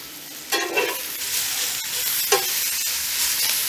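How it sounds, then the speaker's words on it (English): Vegetables and onions sizzle in canola oil over an outdoor cooking setup, a steady close frying hiss with a couple of brief louder bursts. "so we got our veggies cooking up here real good"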